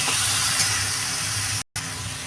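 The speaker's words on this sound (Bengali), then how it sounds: "ভালো করে নাড়িটা দিয়ে এটা ভালো করে কষিয়ে নিতে হবে যাতে পেঁয়াজের জলটা না থাকে" Onions stir-frying in a pan for a spicy rohu fish curry with mustard and tomato, a steady close hiss of sizzling that stops briefly near the end and then picks up again.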